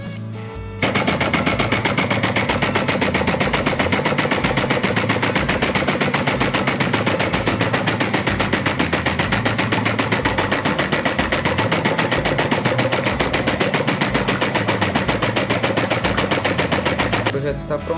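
A homemade air compressor built from a PET bottle and a garden sprayer switches on abruptly and runs with a loud, continuous rattling buzz that holds steady for about seventeen seconds.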